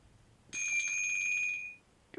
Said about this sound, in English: Sorry about my phone, it does it all the time,